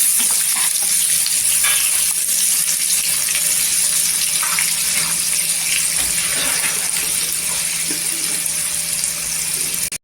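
Onions frying in a pan with curry leaves, cooking until golden, give a steady close hiss and sizzle that barely changes throughout, with no talk over it.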